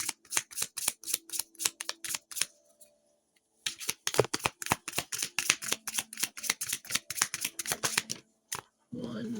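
Tarot cards shuffled by hand in quick riffling bursts, a steady run of crisp flicks that pauses briefly midway and then resumes, close and clear, with a voice speaking faintly at moments.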